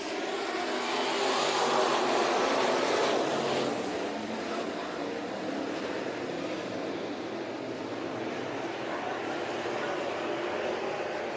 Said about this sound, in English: And through turns number 3 and 4, the 14H of Clay Daly picks up the B-main win.